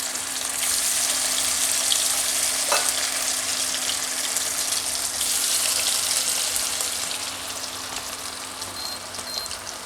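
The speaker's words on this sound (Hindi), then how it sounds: "अब फिर एक और डाल दिया है इसको फ्राई करने के लिए" Chicken malai tikka frying in a hot pan gives a steady, loud sizzle that runs the whole time, with a brief stir or clatter near the start and no voices.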